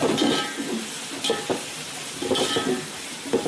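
Sliced onions and green chillies fry in hot oil in a pan for a fish curry, giving a steady sizzle broken by several scraping stirs of a utensil against the pot.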